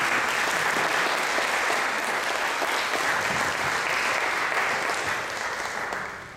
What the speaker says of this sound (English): please join me in giving them a warm round of applause for the work